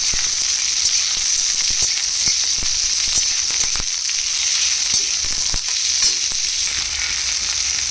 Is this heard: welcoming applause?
no